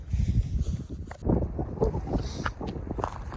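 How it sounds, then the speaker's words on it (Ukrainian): Gusty winter wind buffets the microphone in uneven bursts out on the ice during zander ice fishing, with low rumbling thumps and some faint movement noises close by. "Такий вітер, просто капець."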